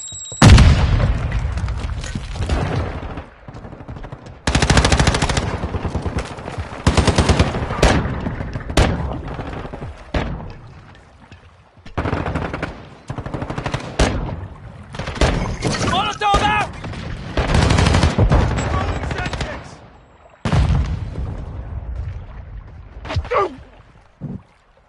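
A Semtex grenade explosion and gunfire in a video game make repeated loud booms and bursts of shots in dense waves, close and heavy, with short gaps between barrages and some talk mixed in.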